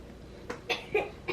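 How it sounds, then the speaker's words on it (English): A few short, sharp coughs, roughly four bursts spaced unevenly, close by and moderately loud against a quiet background. "Is it making you cough?"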